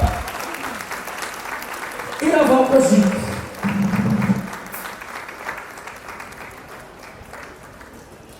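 Concert audience applause at a Christmas tree festival with an orchestra: steady clapping that swells in the middle and then eases off, while an announcer speaks over it.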